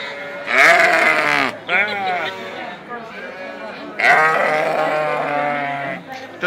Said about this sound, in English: What are these? They're sheep.